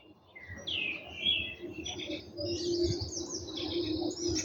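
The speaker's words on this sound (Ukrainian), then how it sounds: "Пташки співають." Several birds chirp and whistle in bright, overlapping calls, fairly faint and outdoors, with a low background murmur underneath.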